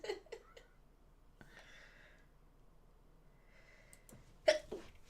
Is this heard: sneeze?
yes